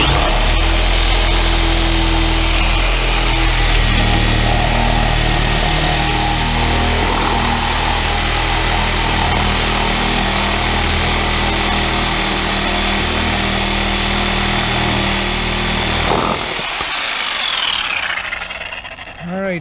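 A power tool cuts through ABS sewer pipe during a sewer system repair on a 1974 GMC RV, giving a loud, steady rasping whine that runs about sixteen seconds before stopping abruptly, with no talk over it.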